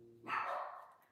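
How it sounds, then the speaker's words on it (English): A single muffled bark from a dog reacting to someone arriving at the house, faint and somewhat distant, rising sharply and fading over about a second. "Do you hear my dogs?"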